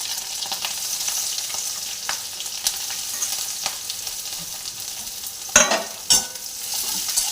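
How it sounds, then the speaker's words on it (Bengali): Garlic, dried red chilies, green chilies and onion fry in hot oil, giving a steady close sizzle with occasional stirring scrapes and two louder clatters near the end. "আর এবার আমি ফোড়ন দিয়ে নিচ্ছি রসুন কুচি, শুকনো লঙ্কা, কাঁচা লঙ্কা আর পেঁয়াজ"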